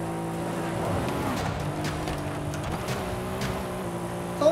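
A Mercedes AMG GT-R engine in Forza Horizon 5 drones steadily at high revs, a constant, fairly loud tone with faint tire noise and no talking.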